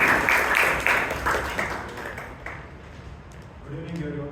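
Brief applause at a Toastmasters club meeting, several rhythmic bursts of clapping that fade within about two seconds, followed by quieter room sound and a voice starting to speak.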